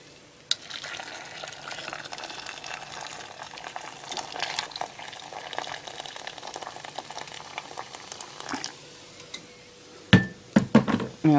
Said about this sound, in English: Now I'm going to pour some boiling water in.